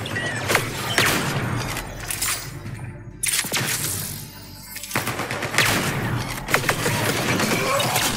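Mass Effect Andromeda combat gunfire rattles in rapid bursts and scattered shots, loud and dense, with metallic clanks and a brief lull midway.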